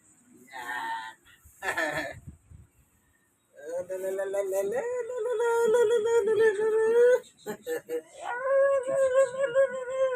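Shih tzu dogs at play give whimpering, drawn-out howling and whining cries, close and fairly loud, with human voices mixed in.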